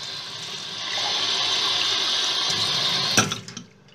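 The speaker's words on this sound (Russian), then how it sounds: "наливаю туда" Water runs steadily from a tap into a mug in a kitchen, a continuous bright rushing that stops abruptly with a clunk near the end.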